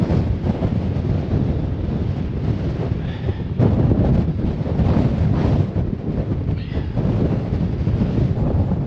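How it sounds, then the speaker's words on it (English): Strong, gusting wind buffets an exposed wild camping spot during Storm Darragh, a loud, continuous roar with surging blasts battering the microphone close up and no voices. "the wind here is absolutely horrendous"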